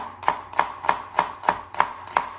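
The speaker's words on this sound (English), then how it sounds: "Just then we slice the shallots." A knife chops shallots on a cutting board in a kitchen, seven crisp, evenly spaced thuds close up, with no talking.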